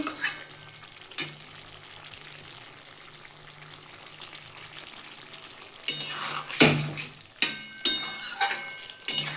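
Paneer and okra curry fries quietly in a pan, then a spoon stirs it in several loud, uneven scraping strokes over a soft sizzle.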